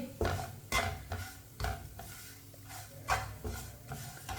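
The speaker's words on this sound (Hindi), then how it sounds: "पैन बहुत गर्म है, इसके लिए मसाले भी भुन जाएंगे।" Spices with chilli, turmeric and chaat masala roast in a very hot oiled pan for aloo tikki, sizzling softly as a spoon stirs and scrapes the metal in uneven, repeated strokes, close by.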